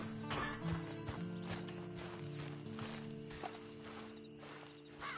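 Horse hooves clip-clop in a steady walking rhythm in a video game, layered over a sustained musical drone and soft ambient tones.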